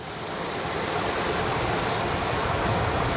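Waves rush against the hull of an Excess 13 catamaran sailing upwind under a code zero, a continuous loud wash of water and wind with no voices.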